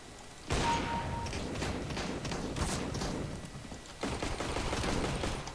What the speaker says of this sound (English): Fucking shotguns.